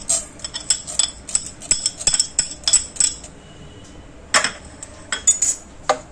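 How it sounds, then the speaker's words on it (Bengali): A metal spoon stirs spices in oil with a little sugar in a cooking pot for a fish-head muri ghonto, making close, bright clinks and scrapes in irregular clusters, with a quieter gap before a few final knocks. "একটু নাড়াচাড়া করবো।"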